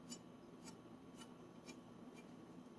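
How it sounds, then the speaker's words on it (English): Thumb scraping across the burr on a knife edge freshly sharpened on a whetstone, heard as a handful of soft, dry rasping strokes spaced roughly half a second apart over a low steady hum. "You can hear my thumb scraping the burr."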